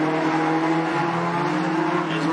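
Race cars lapping at Cottage Grove Speedway hold a steady, loud engine drone. The sustained harmonic roar runs through the whole stretch with no break.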